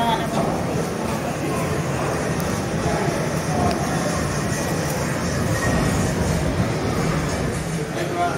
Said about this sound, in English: Quite interesting how they'll get the drive to the loco, to the actual train wheels through that sprocket there.